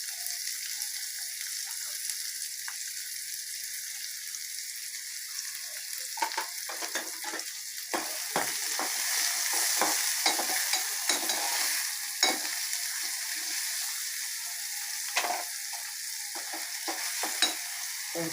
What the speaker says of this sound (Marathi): बारीक गॅसवर मी हे आता सोनेरी रंगावर परतून घेणार आहे।